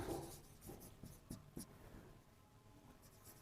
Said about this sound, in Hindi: मैं एक सेंटेंस लिखता हूं